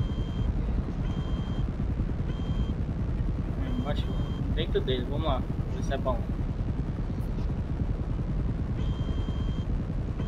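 A helicopter in GTA V Online drones with a steady, rapid thrumming rotor beat throughout, while people talk over it.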